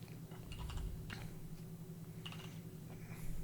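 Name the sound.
computer keyboard keystrokes, typing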